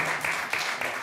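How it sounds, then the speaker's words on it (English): Short, scattered applause from a small group at a Board of Aldermen meeting, a soft patter of hands that swells briefly and fades within about a second. "Felt like a little empathy applause."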